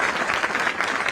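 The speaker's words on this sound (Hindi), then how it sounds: "थोड़ी सी तालियां और बजाएं।" Audience applause at a public government event in Jaipur, a steady wash of many hands clapping, close and full, with no voices over it.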